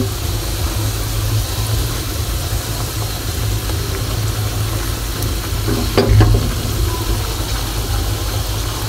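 Puris for bhelpuri frying in hot oil, a steady dense sizzle throughout with a brief louder burst of bubbling partway through, no talking.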